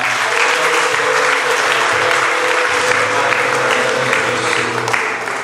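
A church congregation claps together in loud, dense, sustained applause filling the room, steady throughout with only a slight fade at the close.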